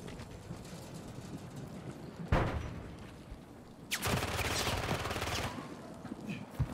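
Gunfire in the Warzone 3 video game: a sharp shot near 2.3 seconds, then a louder run of rapid, rattling bursts lasting over a second, over a steady windy background.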